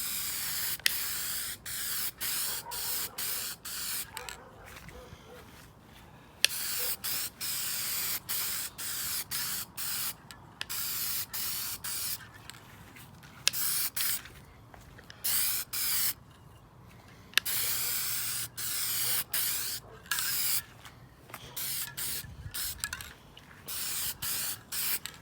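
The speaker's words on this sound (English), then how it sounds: "So shoot a quick coat on there real quick, see how it looks." Spray gun laying a quick coat of paint onto a wet-sanded Honda DC2 OEM bumper, heard as repeated hissing bursts of varying length separated by short pauses, close and steady, with no talking.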